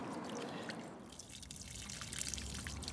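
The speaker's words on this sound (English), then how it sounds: "we pour water in the space between the inner and outer rings, like so." Water is poured onto soil into the gap between the inner and outer rings of a double ring infiltrometer, a faint trickling splash with scattered drips, quiet and without voices.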